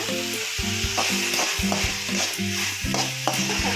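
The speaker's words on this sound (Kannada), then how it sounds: "ಚೆನ್ನಾಗಿ ಒಂದು ನಿಮಿಷ ಎಲ್ಲ ಹುರ್ಕೊಳ್ಳೋಣ" Capsicum and mixed vegetables stir-fried in a pan for vegetable upma, a close steady sizzle with repeated scraping strokes of a spatula, no voices.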